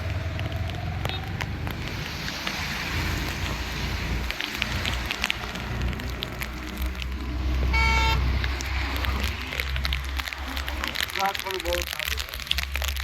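Rain falls over a flooded street in Junagadh as traffic moves through the water, a constant wet hiss with passing vehicles and one clear horn toot midway, while someone talks over it.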